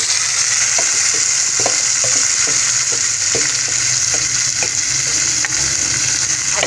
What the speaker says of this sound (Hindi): उसके बाद हम डाल देंगे गोश्त।